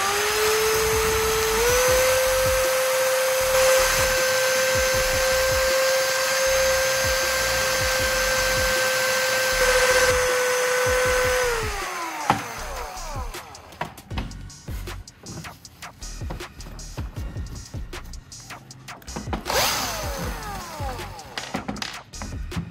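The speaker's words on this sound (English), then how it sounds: "pop the bolt into a drill and gently grind one end down to make it smaller" A high, steady electric drill whine runs for about twelve seconds, then gives way to scraping, grinding bursts as a bolt spun in the drill is ground down close by.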